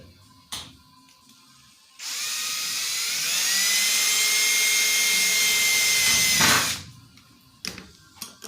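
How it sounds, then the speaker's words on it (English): A high-pitched power drill with a size 40 bit whines steadily for about four seconds while drilling for a nut plate install, rising slightly in pitch, then winds down, with brief clicks and handling noises before and after. "Now we got a 40 drill bit."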